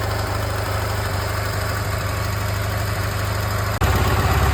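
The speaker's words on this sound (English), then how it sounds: "Start the engine." A restored Soviet boxer motorcycle engine of the M-72, K-750, Dnipro or Ural type runs steadily and loud, with a constant low, throbbing idle and a slight jump in level near the end.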